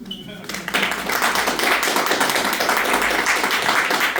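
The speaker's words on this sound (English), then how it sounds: "yes, you can start clapping now" An audience claps during a motivational speech, starting with a few scattered claps and quickly building into sustained, dense applause from a sizable room, with a voice faintly present beneath.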